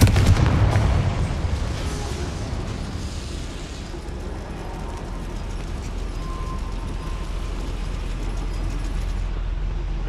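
A Confringo fire spell explosion in the video game Hogwarts Legacy, heard as a loud blast that settles into a sustained, dense rumbling roar lasting several seconds.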